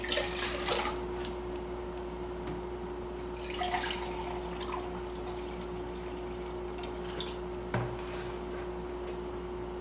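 Well tap water is poured for pickled okra brine, a soft steady splashing and trickling with a few louder gushes over a constant low hum, no talk.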